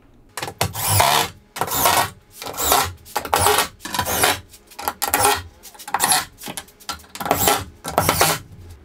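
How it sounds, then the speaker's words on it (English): A power screwdriver or drill drives screws into a plywood custom cabinet in repeated loud, close bursts about a second long, separated by short pauses. "Time to screw it down."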